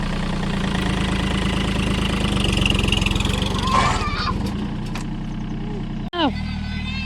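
A farm tractor engine runs close by with a loud, steady chugging idle, then cuts off abruptly near the end, followed by a short mechanical clank.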